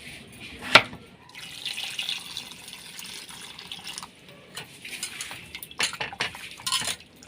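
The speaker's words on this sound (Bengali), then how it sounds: "আলুটা ধোয়াই ছিল, তাও একবার ধুয়ে নিচ্ছি।" Potatoes being rinsed under a running kitchen tap while a Bengali-style ghugni is prepared, with a steady water rush, a sharp clink of a utensil early on and scattered splashes and knocks near the end.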